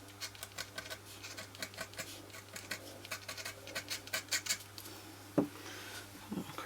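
A craft knife scraping stray gold foil from a handmade card, a quick run of dry, rhythmic scratches close up, fairly quiet over a low steady hum, no one speaking.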